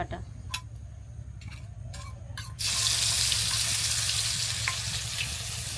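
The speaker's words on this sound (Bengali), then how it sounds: "মাছ ভাজা তেলের মধ্যে বাটা মশলাগুলো দিয়ে দিব প্রথমে দিয়ে দিব পেঁয়াজ" Onion paste drops into oil left from frying tilapia. After a few quiet clicks and clatters, a sudden loud sizzle bursts up and keeps hissing strongly until the end.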